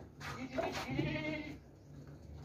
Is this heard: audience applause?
no